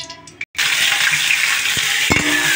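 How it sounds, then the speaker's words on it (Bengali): Onions sizzle hard in hot ghee in a wok while being fried to golden crisp for chicken biryani, a loud steady crackle with a short break and a couple of stirring clatters. "ভালো মতন ফ্রাই করে বেরেস্তা বানবে।"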